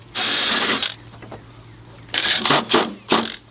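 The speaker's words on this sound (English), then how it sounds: "You go ahead and drill." A power drill drives screws to mount a Fiskars rain barrel diverter onto a gutter downspout, with one long whirring burst followed by a pause and then several short, loud bursts close by.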